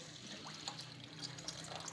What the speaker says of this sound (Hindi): अब हम इसमें पानी डालेंगे आधा लीटर।